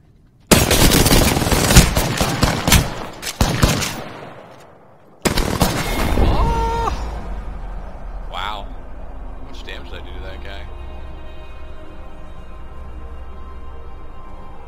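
Submachine gun fire in a first-person shooter video game, with dense bursts of rapid automatic shots early on, a pause, then another burst fading into quieter game sounds; a person talks over parts of it.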